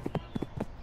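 Horse hooves clip-clop on the ground in a steady rhythm of paired beats, close and moderately loud, at a campsite, with no talking.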